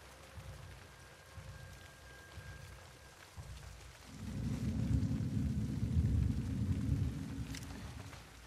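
Rain in the video game The Last of Us Part II, a soft patter that swells into a heavier, rumbling downpour midway, with low thunder-like undertones and no talk.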